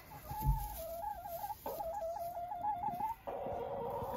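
Backyard chickens in a winterized run make soft, contented warbling calls, a wavering repeated trill close by, with a brief bump near the start and short pauses between phrases.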